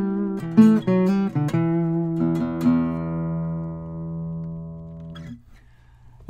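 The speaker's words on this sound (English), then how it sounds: "Played up the neck, the guitar offers a nice mid-rangey sound" Guild M-120 acoustic guitar played high up the neck, a few quick plucked notes and strummed chords near the start, then a single chord left ringing and slowly decaying before a soft final touch, alone with no talking.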